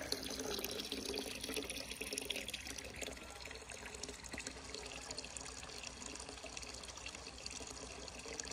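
Cold, fresh forest water runs steadily from a village tap in Alsace, France, a continuous close splashing stream with no pauses.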